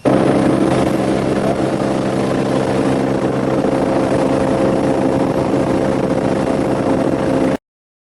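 A helicopter flies close by, its rotor thumping in a loud, steady drone that holds until the sound cuts off abruptly.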